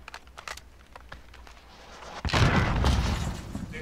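A Javelin rocket explodes in a multiplayer battle game with a sudden loud boom midway, after a stretch of faint clicks and small pops. A broad, rumbling roar then trails off slowly.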